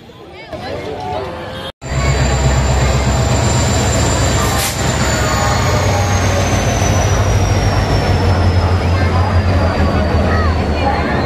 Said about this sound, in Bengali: ট্রেন দিয়ে দিয়েছে প্ল্যাটফর্মে